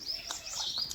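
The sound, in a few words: birds chirping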